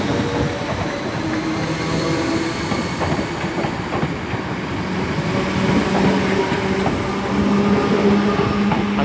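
A Merseyrail Class 507 electric train pulls out of Chester station with a steady rumble and wheel clatter that builds slightly, plus a faint motor whine, loud and continuous with no talk.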